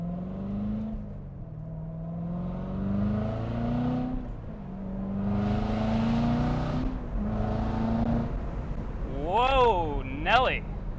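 A 2015 Corvette Z06 accelerating on a public street, heard from inside: the engine note climbs repeatedly through the gears, with a loud, rising growl. A brief voice is heard near the end.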